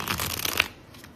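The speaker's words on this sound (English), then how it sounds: "we are always going to try to shuffle with a standard way of shuffling" A Phantomwise Tarot deck by Erin Morgenstern is bridge-shuffled: a quick, close, crisp riffle of rapid card flutters that ends in a soft settle and then near quiet.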